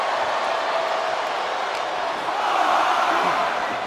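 Crowd noise from a WWE 2K24 wrestling video game arena, a steady roar of cheering spectators that swells slightly toward the end, with no talk over it.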